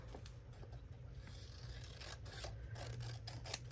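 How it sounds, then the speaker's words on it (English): Scissors snip repeatedly through paper as words are cut out for a journal, close crisp cuts mixed with light scraping and rustling, with no talking. "Why don't I just cut out all those words?"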